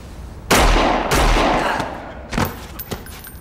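Two loud, close gunshots in quick succession from a comedy sketch, followed by a couple of softer bangs and thumps fading out.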